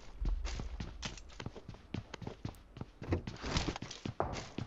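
Quick, regular footsteps in PUBG Mobile thud along steadily, close and fairly loud, like someone running over a hard surface.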